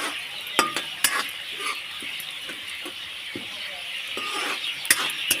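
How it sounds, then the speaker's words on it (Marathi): Chopped onion sizzles steadily in a hot pan while a spatula scrapes and clacks against the metal in irregular strokes, close and moderately loud, with no talking. "तर इथे मी कांदा टाकून घेतले"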